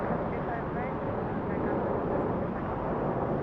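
A commercial jet arriving at Los Angeles International Airport gives a steady, loud broadband roar that holds evenly throughout, with no break or change in level.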